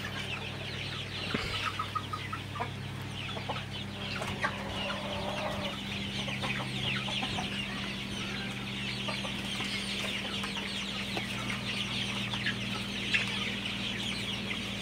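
Sonali chickens in a poultry shed holding about 1,500 birds cluck continuously and faintly in a dense background chorus over a low steady hum, with a few louder individual calls.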